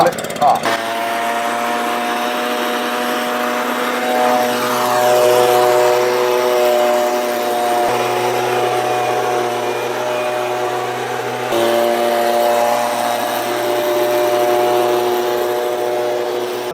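Stihl backpack mist blower running steadily at close range, a continuous droning engine with strong harmonic whine that dips briefly and recovers, with someone talking over it throughout.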